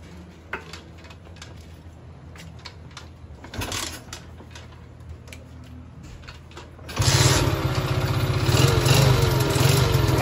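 Euro Racing 110 motorcycle engine, run on battery after a 4-pin CDI swap: a low hum at first, then a loud steady idling rattle sets in and keeps running evenly to the end.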